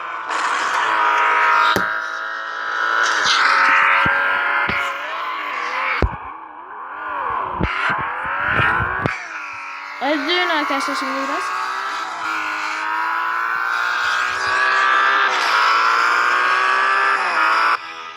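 Video game car engine screaming at high revs, rising and dropping with gear shifts and a crash midway, while someone talks over it.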